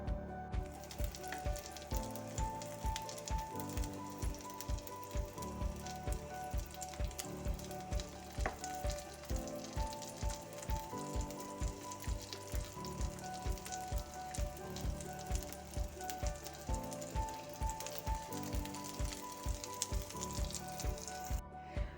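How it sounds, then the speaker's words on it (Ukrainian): Fish coated in flour and egg fries in sunflower oil, a constant close crackling sizzle with a faintly pulsing texture that carries on throughout, with no voices. "буду обсмажувати на соняшниковій олії"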